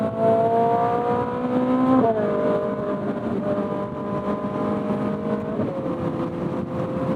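A Ferrari 458 Spider's engine drones steadily from inside the car while it drives, its pitch dropping sharply at two quick dual-clutch upshifts, the first about two seconds in and the second near the end; continuous, loud and close.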